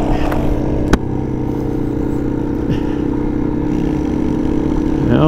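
A small trail bike ridden at a campground trail is held at full throttle, its engine buzzing loud and continuous with slight rises in pitch, a sharp clack near the start and faint voices.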